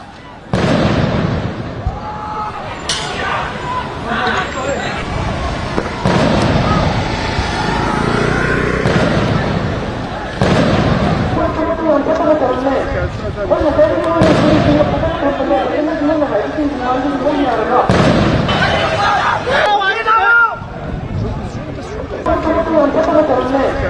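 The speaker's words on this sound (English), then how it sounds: "Some protesters were repelled with tear gas." Tear gas shells are fired at protesters as police crack down in Manipur, India, with repeated sharp bangs and pops over the noise of a crowd, all under a narrator's voice.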